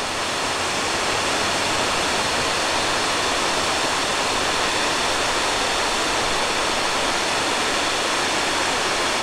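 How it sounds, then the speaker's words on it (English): Steady rushing water pours continuously over a small dam waterfall, a dense broad hiss heard up close, unbroken and even throughout. "Little waterfall."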